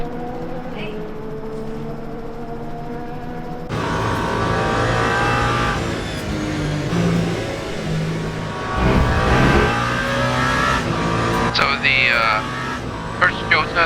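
Race car engines circle at the 24 Hours of Le Mans in Le Mans Ultimate, a harmonic engine drone that swells as the view changes, with cars passing and revving up and down through gears, loud and close.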